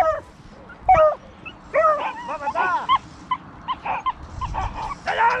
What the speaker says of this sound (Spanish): hasta la Taira lo ladra